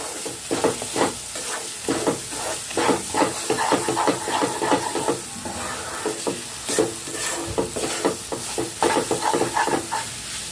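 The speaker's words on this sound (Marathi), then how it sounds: "आपण जी मूगडाळ बारीक केलेली आहे ना ती सर्व मूगडाळ यात घालायचे आहे व्यवस्थित मिक्स करून घ्यायचे आहे" Ground moong dal is stirred into a hot wok with gram flour and semolina for halwa, producing a continuous close sizzling hiss broken by rhythmic scraping stirring strokes.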